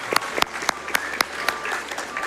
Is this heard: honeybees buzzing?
no